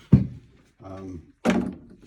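A kitchen cabinet door held by a single screw unlatches off its base with two close, solid wooden thunks, separated by a moment of talking.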